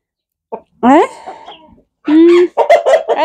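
A red rooster and a white rooster fight, squawking and clucking in short, agitated bursts close by, with brief pauses between outbursts and a voice mixed in.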